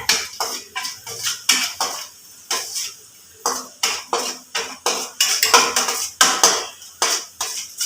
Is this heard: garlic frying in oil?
yes